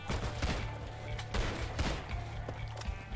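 Pistol shots in a zombie video game, a quick series of sharp, fairly close cracks, several in a row over steady game background noise, with no talk.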